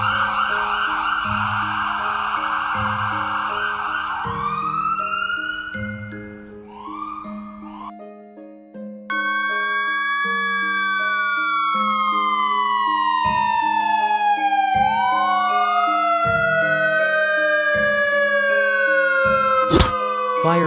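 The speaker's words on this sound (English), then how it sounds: "Ambulance." An ambulance siren wails loudly and up close, its tone sweeping up and down over a repeating musical backing, with brief jingling tones near the end.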